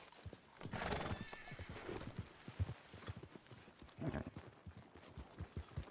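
Horse hooves clip-clop in a steady trotting rhythm in the WildRP western game, with a horse whinnying and snorting near the start, fairly close and loud, no talk.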